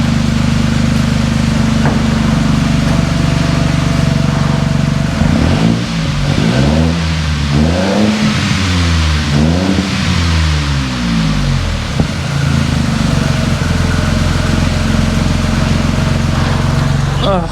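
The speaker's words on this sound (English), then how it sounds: "I'll give it a rev." A car engine idles, then revs up and down in several rising and falling bursts before settling back to a steady idle, close by.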